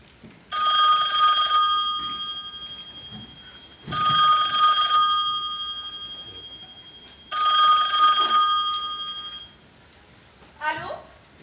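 Telephone ringing on stage during a play, three loud bright electric bell rings evenly spaced with pauses between, followed by a short sound after the last ring.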